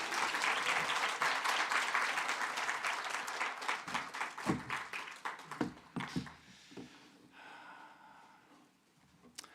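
Church congregation applauding to welcome a missionary at a Sunday worship service, a dense burst of clapping that thins into scattered claps and fades, leaving a quieter room with a few stray sounds near the end.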